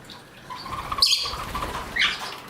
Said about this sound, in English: Usually when a couple birds bathe, they all go take a bath because they hear splashing